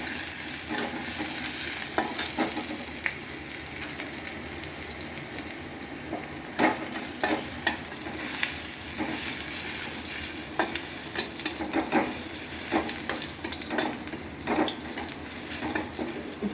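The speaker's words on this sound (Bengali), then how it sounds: "রসুনটা ভাজা ভাজা হয়ে গেছে" Garlic cloves frying in a pan before jute leaves go in, a long continuous sizzle with repeated stirring scrapes and utensil taps throughout.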